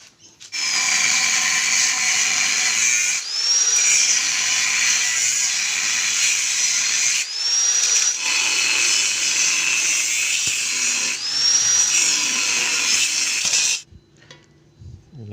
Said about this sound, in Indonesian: Kita potong dulu 35 cm buat tingginya teman.